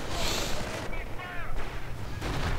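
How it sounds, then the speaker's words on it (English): Anti-tank gun firing in a World War II strategy video game, booming blasts and battle noise filling a short stretch, with faint tonal game sounds in between. "And looks like we are seeing some light engagement there. Anti-tank gun opening up."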